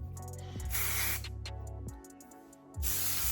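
Texturizing hair spray hisses from an aerosol can in several bursts, a long close spray followed by shorter pauses and a final blast, loud and alone without talk.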